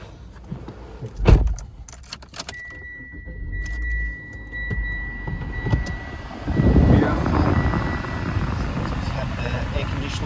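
A 2018 Mitsubishi ASX in Cairns is started from inside: a door thud and cabin chimes come first, then the engine cranks and settles into a steady close idle hum, with a voice talking throughout.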